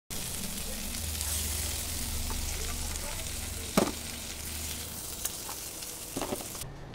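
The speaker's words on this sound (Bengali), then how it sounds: "মোটামুটি 10-12 মিনিট সময় ধরে কাঁকড়াগুলোকে ভেজে নেওয়ার পর একটা আলাদা জায়গায় তুলে" Crabs fry in hot oil in a kadai, giving a continuous moderate sizzle with a few louder stirring clatters and scrapes.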